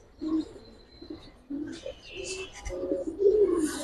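Silver and coloured fancy pigeons, a male and female pair, coo softly in short bursts near the listener, with faint chirps and a voice talking at moments.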